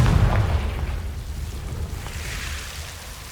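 A Confringo fire spell blast in Hogwarts Legacy: a loud, deep boom at the start that settles into a rumbling, fading roar under a low ambient bed.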